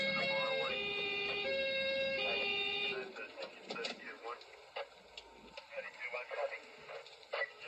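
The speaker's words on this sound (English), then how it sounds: "The sirens." A police car siren wails its two-tone pattern for about three seconds, then cuts off as a person speaks over a radio-like background.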